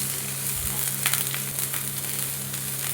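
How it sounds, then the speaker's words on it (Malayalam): Green chillies and curry leaves sauté in a pan for a white chickpea curry; a steady, moderately loud sizzle runs throughout, with faint stirring touches and a low background hum. "ഇനി പച്ചമുളകും കറിവേപ്പിലയും എല്ലാം കൂടി നന്നായിട്ടൊന്ന് വഴറ്റിയെടുക്കണം."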